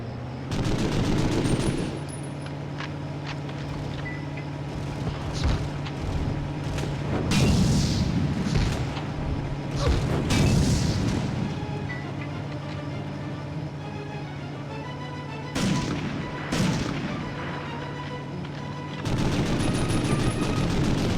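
Gunfire in the PS1 game Medal of Honor: Underground, with clusters of loud, close shots and rapid bursts separated by quieter lulls of background game ambience.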